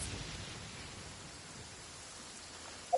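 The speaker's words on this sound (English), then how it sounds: "Still raining." Steady rain falls across Mondstadt in Genshin Impact, a soft even hiss of drops with no other sounds, ending in a brief faint click.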